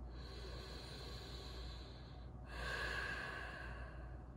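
Slow, deep breathing during a yin yoga forward fold, steady airy inhale-exhale noise filling the clip with a louder, fuller breath in the second half and no talking.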